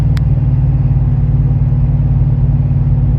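A 6.6L GMC pickup engine tows a fifth-wheel trailer of about 15,000 pounds up a hill, with a steady, loud, close droning rumble throughout and no break.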